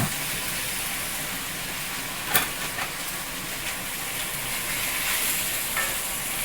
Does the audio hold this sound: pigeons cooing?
no